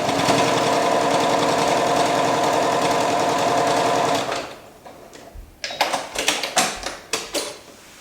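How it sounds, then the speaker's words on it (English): A sewing machine stitches quilt binding in a fast, steady whirring run for about four seconds, then stops, followed by several short bursts of mechanical clicks and handling knocks. "Sew about 10 centimeters and then stop"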